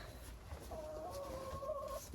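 A backyard hen clucks in a few soft, drawn-out calls, close by and fairly quiet, with no talking over it.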